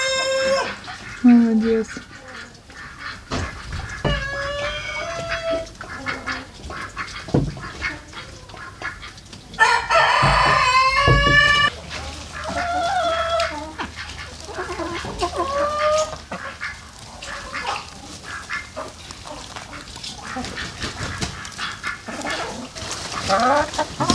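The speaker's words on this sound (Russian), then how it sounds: "Здесь, в центральном курятнике, у нас петушки живут исключительно." Chickens cluck and roosters crow inside a village henhouse that houses only cockerels, with repeated loud crows and scattered clucks over a farmyard murmur, and a person speaks briefly now and then.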